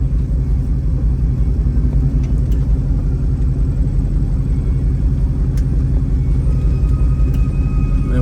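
A 1967 Chevrolet Camaro 396 rumbles along a road at a steady, loud low drone, with faint clicks over the engine noise.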